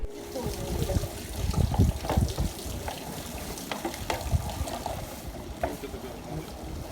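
Fresh spring water rising from underground trickles and splashes steadily at a monastery in Sergiev Posad, a continuous moderate burble with faint outdoor background noise around it.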